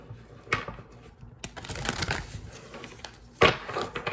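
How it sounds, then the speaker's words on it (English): Starry Beginnings oracle cards being shuffled by hand in three bursts, brisk riffling crackles with short pauses between, fairly close and alone without talk. "So let me do 3 shuffles."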